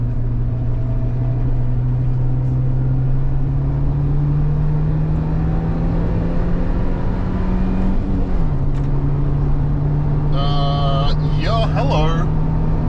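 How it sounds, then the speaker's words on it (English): A Suzuki Jimny with a Torqit airbox accelerating in second gear on a road, giving a steady engine drone that rises slightly in pitch as speed builds, heard from inside the cabin. "once we get around this corner, I'm doing 40 in second gear."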